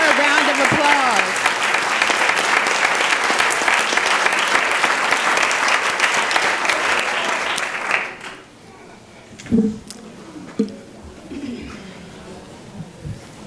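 Audience at a school district board meeting applauds in a loud, sustained burst for about eight seconds, then it stops and a few brief knocks and faint sounds follow in a quieter room.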